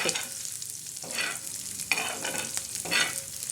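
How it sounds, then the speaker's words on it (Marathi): Coriander seeds dry roasting in a pan for a black masala for stuffed bitter gourd. Close scraping, rattling stirs come in repeated bursts over a soft background hiss, with no voices. "हे धने टाकायचे आता धणे चांगले असे भाजून घ्यायचे हे बघा"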